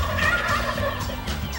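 Several turkeys gobble in quick repeated bursts, a rapid rattling call heard close and clear over faint outdoor background.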